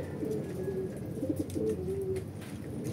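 Racing pigeons at a derby loft coo in soft, rounded, low calls, a few overlapping phrases close by over light background noise.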